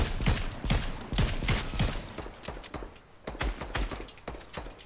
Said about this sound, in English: Where I'm shooting.